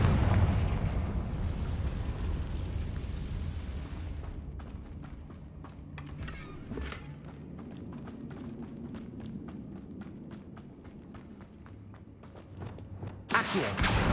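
Confringo blasting spell in the Hogwarts Legacy video game: a loud blast opens with heavy booming rumble that settles into a sustained roar, and a second sharp burst erupts near the end.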